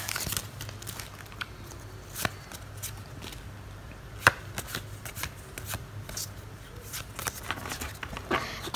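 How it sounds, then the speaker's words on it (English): Pokémon Rebel Clash booster pack cards are handled up close, with soft crinkling foil, card slides and occasional sharper snaps and flicks, quiet and continuous without speech. "Let's continue our journey of opening the left packets."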